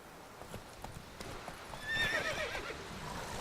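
Roach, a horse in the game The Witcher 3, galloping with a steady clip-clop of hooves, then a sharp whinny partway through, close and fairly quiet.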